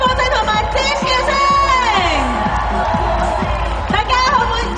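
A crowd at a TR90 body-transformation show cheers, whoops and screams loudly and continuously, with excited shouts rising and falling throughout.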